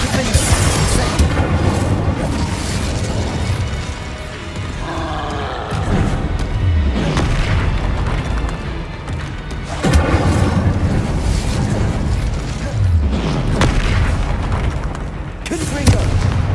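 Fiery blasting spell explosions in Hogwarts Legacy, loud booming blasts recurring every few seconds over a dense roaring battle din, with voices shouting spell names.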